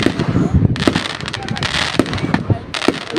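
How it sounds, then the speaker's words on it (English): Fireworks at Pounawea crackle and boom in dense, overlapping bursts throughout, loud and close, with excited voices of onlookers talking over the noise. "Oh my god, look at all those fireworks being launched!"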